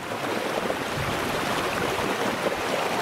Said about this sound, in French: le bruit du torrent, c'est quelque chose aussi